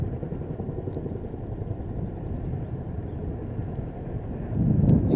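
An RAF Chinook helicopter on the runway at Woodbridge, Suffolk, during Exercise Joint Warrior, taxiing to hot refuel, makes a steady, loud rotor and engine roar that swells slightly at the end.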